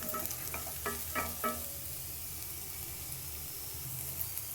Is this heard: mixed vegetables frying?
yes